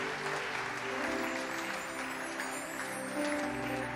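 A church congregation applauds during a service, producing a dense, sustained wash of clapping that runs steadily throughout, moderately distant with a faint murmur beneath.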